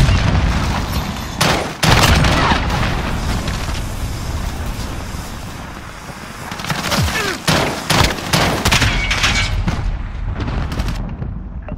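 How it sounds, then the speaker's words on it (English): Modern Warfare battle noise: bursts of rapid gunfire and heavy booms from a cruise missile strike, loud and near, with sharp volleys around two seconds and a cluster of shots and blasts later, over a rumbling background. "Allied cruise missile launched."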